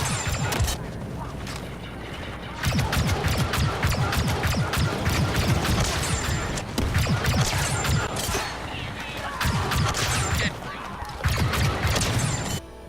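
The EL-16 HFE heavy assault blaster fires in Star Wars Battlefront 2, loud sharp shots rattling in rapid bursts with brief gaps between them, over the busy din of battle.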